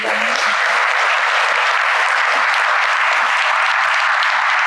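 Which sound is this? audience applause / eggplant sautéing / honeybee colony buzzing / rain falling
audience applause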